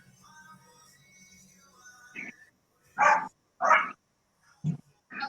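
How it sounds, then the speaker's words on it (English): A dog barks in another room behind a closed door, a few short muffled barks and a whimper, faint and distant after a stretch of quiet hum. "What, you got a dog back there? You can hear him?"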